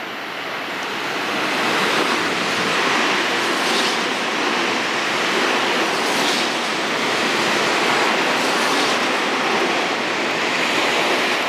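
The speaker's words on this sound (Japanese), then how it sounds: "快速急行が通過をしていきましたね" A Tobu rapid express train rushes through Yanasegawa station without stopping, a broad rushing roar that builds in the first two seconds and then stays loud and steady, with no voices.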